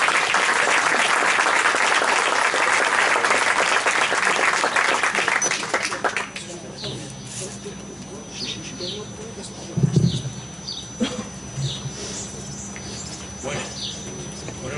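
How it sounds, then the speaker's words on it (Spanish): A crowd claps loudly for several seconds, then the applause fades out into a quiet room with scattered small noises. "Un aplauso para él."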